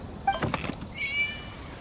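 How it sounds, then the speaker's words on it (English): A video game cat gives a couple of short meows, the second a higher, drawn-out mew, fairly close against a quiet background. "It was just a cat."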